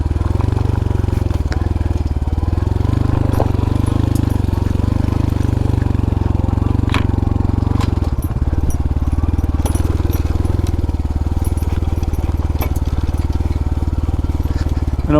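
Honda Trail 125 Hunter Cub motorcycle engine fitted with a Yoshimura exhaust, a steady close-up low thump that holds nearly level throughout with a brief dip around the middle, no talking over it.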